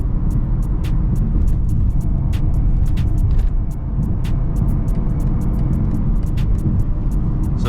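Interior of a big-bodied luxury car cruising on a highway, a steady low road and engine rumble with tyre noise, punctuated by brief faint clicks and ticks, no talking.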